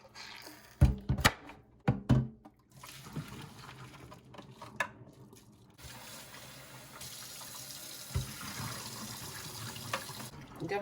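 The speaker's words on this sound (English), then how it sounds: "And then I'll just wash this with hot soapy water." Water running from a tap and splashing in a sink as a humidifier tank is washed in hot soapy water, with scattered clunks and knocks, fairly quiet and close.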